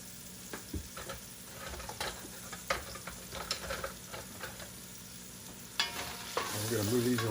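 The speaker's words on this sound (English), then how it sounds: "We're gonna add a couple tablespoons of oil, in this case grapeseed oil. And we're going to start off with these bigger mushrooms." Large mushrooms sizzle in grapeseed oil in a cast iron pan, with a constant crackling fry and soft stirring taps nearby, louder toward the end.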